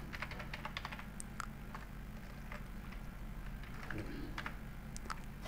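Steady typing on a computer keyboard, quiet and close, with irregular bursts of key clicks and brief pauses, no talking.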